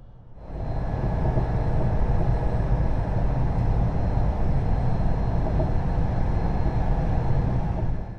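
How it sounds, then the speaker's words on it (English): Dutch intercity train accelerating onto a high-speed line toward 200 km/h, a loud, steady rumbling roar that builds suddenly after a quiet start and holds constant to the end, heard from inside the carriage. "And once we start to join the high-speed line, our train can begin to accelerate towards its maximum speed of 200 km per hour"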